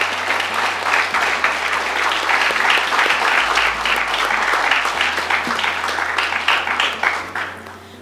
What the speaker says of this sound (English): Can we give those children a round of applause?